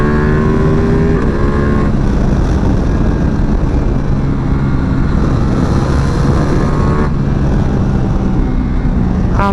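A Ducati Multistrada V4 Pikes Peak motorcycle with a V4 engine revs hard under acceleration, loud and continuous throughout with rising engine tones, heard close up with no speech.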